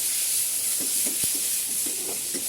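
Whole chillies and tomatoes sizzling in hot oil with cumin, a steady loud frying hiss with a few soft stirring knocks, no talk.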